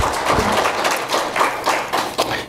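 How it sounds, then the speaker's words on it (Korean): Scattered clapping from a church congregation, a loose uneven patter of hands filling the room at moderate volume without a clear unison rhythm. "박수로 한번 격려해 드리세요."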